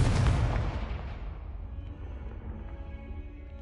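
A Confringo fire spell from Hogwarts Legacy bursts in one loud, close blast that rumbles off into a long, fading low decay.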